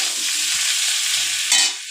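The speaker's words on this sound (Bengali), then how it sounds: "দেখো এবার আমি সব সবজিটা পেঁয়াজ ভাজার মধ্যে দিয়ে দিয়েছি।" Vegetables fried together with browned onions in a pan give a loud, close, continuous sizzle, briefly swelling near the end as the mix is stirred, with no voices.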